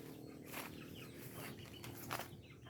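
Faint clucking of chickens in the background, soft intermittent calls over low ambient noise.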